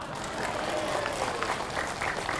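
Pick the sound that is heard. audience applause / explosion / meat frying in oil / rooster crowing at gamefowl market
audience applause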